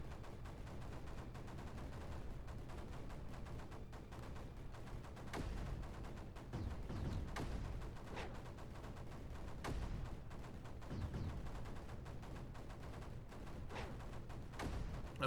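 Mortars fire in the strategy game Creeper World 4 as repeated muffled thumps at irregular intervals over a steady background hum, all fairly faint and without speech.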